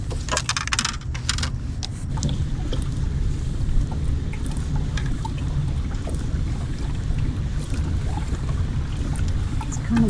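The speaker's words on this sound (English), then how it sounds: "It's kind of windy today" Steady wind rushes over a lake beside a bridge at Clear Lake on a winter morning, a constant broadband roar with low gusty rumble and occasional light knocks, no voices.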